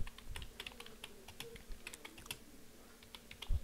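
Keystrokes tap on a computer keyboard in an irregular run of close, quiet clicks, with no talking over them.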